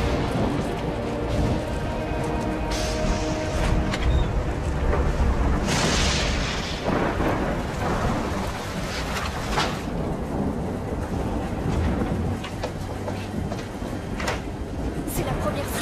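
Rumbling thunder and heavy rain from a supercell thunderstorm roll on without a break, loud and dense, with a few sharper crackling peaks and voices talking underneath.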